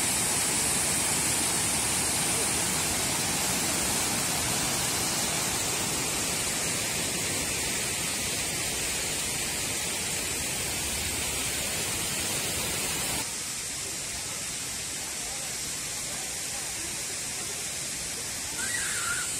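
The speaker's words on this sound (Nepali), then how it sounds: "तुलसीपुर उपमहानगरपालिका वडा नंबर 3 को सातले मा रहेको छ यो झरना।" Satale waterfall in Tulsipur, Dang, Nepal, gives a steady, loud, full roar of falling water that continues without pause and dips slightly in level partway through, with no one talking.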